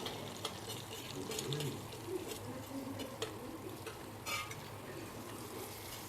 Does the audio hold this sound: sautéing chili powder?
yes